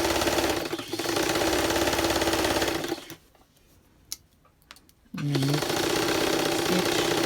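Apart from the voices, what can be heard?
sewing machine zigzag stitching a bodice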